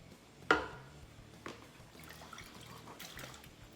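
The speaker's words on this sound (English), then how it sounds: "I'm going to put them in a pan of salted water." A soft splash and plop as potatoes drop into a pan of salted water, followed by a second smaller plunk and faint sloshing in a quiet room.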